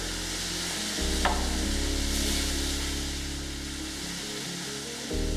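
Beef sizzles steadily in a skillet, a loud continuous hiss and crackle up close, with a brief scrape partway through and the frying noise shifting in level as the pan is handled.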